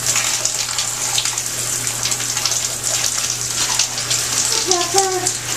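Shower water running steadily in a bathroom, a loud continuous hiss with a low hum underneath, while voices talk faintly over it.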